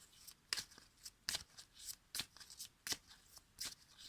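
Tarot cards are shuffled for a draw, with about six crisp, quiet riffles coming in a steady rhythm, close by and with no talking.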